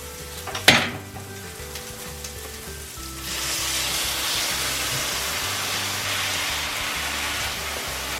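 Chopped garlic hits a hot pan after a sharp clink, then a steady loud frying sizzle builds and holds close and even, alone without speech.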